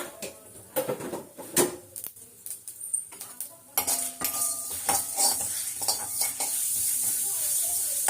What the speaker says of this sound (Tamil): வெறும் சோம்பு போட்டு தான் தாளிக்கு போடுறோம்